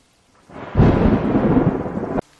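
Stormy night with a sudden loud burst of thunder and heavy rain that swells in, roars for over a second and then cuts off abruptly, with no voices.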